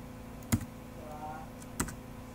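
Quiet keystrokes on a computer keyboard while a setup command is entered: two separate crisp clicks about a second apart over a faint background hum.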